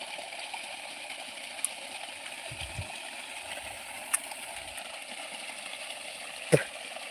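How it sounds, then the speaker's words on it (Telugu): Water from a farm pump motor pours steadily in a continuous broadband rush, close and fairly loud, with a few brief knocks and clicks over the flow and no talk. "ఇదైతే మా మోటార్ నీళ్ళు"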